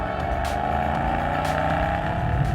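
2019 Mercedes-AMG E63 S bi-turbo V8 growls loudly and steadily with its active exhaust open in sport mode, a close, continuous rumbling drone with a rising pitch.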